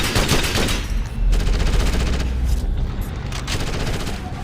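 Rapid gunfire and heavy booms crackle continuously through an urban firefight in Ghost Recon Advanced Warfighter. The dense, loud layers of shots and rumble hold steady throughout.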